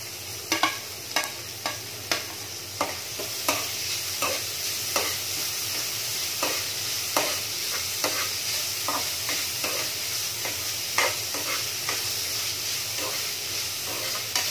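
Meat goes into a pan of softened onions for ginisang upo, sizzling and frying steadily while a utensil stirs and scrapes in regular, repeated strokes, close and fairly loud, with no voices.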